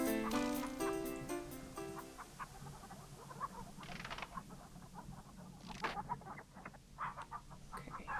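Chickens clucking in the King's Quest III remake video game, a series of short, scattered clucks and patters rising over a background of game music, moderately close with no talking.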